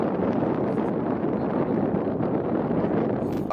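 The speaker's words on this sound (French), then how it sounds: "Ah, tu comprends bien qu'avec le vent, tout ça, c'était pas possible de continuer." Strong wind blowing outdoors on a stormy day, a steady, loud broadband roar buffeting the microphone throughout with slight gusty fluctuations and no voices.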